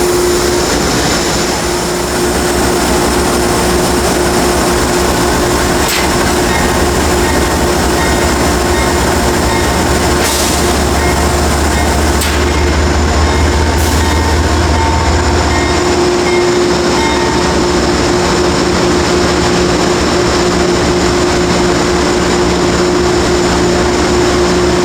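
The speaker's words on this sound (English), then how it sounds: "They're just disconnecting the New York City engine." A loud, continuous rumble of an Amtrak Lake Shore Limited train idling at a station as its engine is disconnected, with occasional metallic clanks and hisses from couplings over the steady engine drone.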